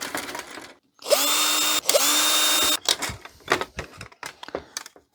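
Power drill backing screws out of a vintage 1991 HP LaserJet 3P printer being scrapped, two loud sustained whirring runs close by, followed by scattered clicks and clatter of parts.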